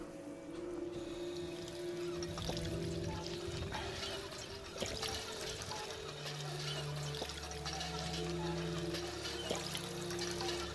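Water pours steadily in a zombie survival video game, a continuous close trickle running over humming game ambience with no talking.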